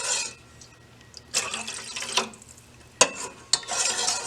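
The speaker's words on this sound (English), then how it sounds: "I'm going to add a little bit of water as well" Water poured into a pot of cauliflower cheddar soup, a short splashing pour with bursts of liquid noise and a couple of sharp clinks, close and alone.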